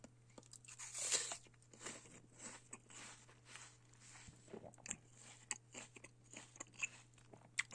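Close, quiet crunching of a bite into a juicy Honeycrisp apple, then a run of soft crackling chews with small irregular snaps, with no talking.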